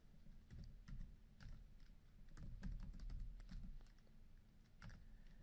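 Rapid keystrokes on a computer keyboard while CSS code is typed, a steady run of close, light clicks with slightly uneven rhythm and a few louder taps, heard alone.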